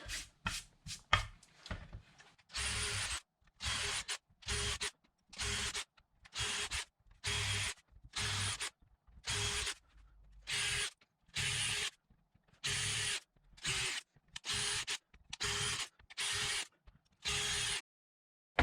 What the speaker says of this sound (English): So that takes care of drilling the pilot holes